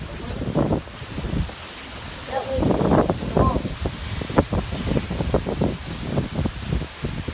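Hurricane Dorian in South Carolina brings gusting wind and rain over a flooding yard, heard as rushing, buffeting noise with wind hitting the microphone, while a person talks close by.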